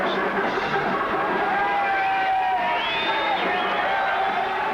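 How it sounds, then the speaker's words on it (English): A crowd of hippies mills and cheers in the street at a distance, with scattered shouts and whoops rising over a constant murmur of many voices. "in the street below, a crowd of hippies celebrates the sunny day"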